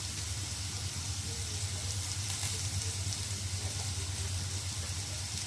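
Turmeric and chilli powder frying in a pan, giving a steady, gentle sizzle close by that carries on without a break and stays fairly quiet.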